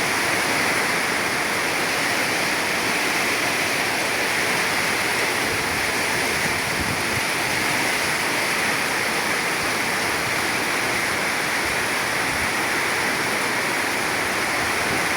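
Floodwater rushes through a barangay in a constant loud roar of churning water, steady and unbroken throughout.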